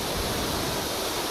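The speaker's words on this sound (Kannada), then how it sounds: "ಡ್ಯಾಂ ತುಂಬಿದೆ, ಹೆಚ್ಚುವರಿ ನೀರನ್ನ ನದಿಗೆ ಬಿಡಲಾಗ್ತಾ ಇದೆ" Excess water rushing out of a full dam into the river during Cauvery floods, a dense, steady roar of churning water with no breaks or voices.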